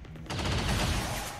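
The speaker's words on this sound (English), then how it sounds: "Taking heavy fire!" A dense, continuous burst of rapid automatic gunfire erupts in the XCOM 2 video game and keeps hammering loudly for over a second, with a battle din underneath.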